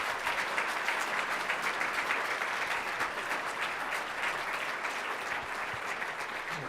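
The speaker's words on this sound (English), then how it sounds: "Always good to end on a round of applause." A round of audience applause at a political summit, steady and fairly close, even clapping throughout with no speech on top.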